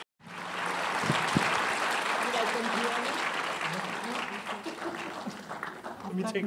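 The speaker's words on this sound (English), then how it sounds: "please welcome Claire Denis." A large audience at a New York Film Festival talk applauds steadily as a film director is welcomed on stage, broadband clapping filling the hall with faint voices mixed in.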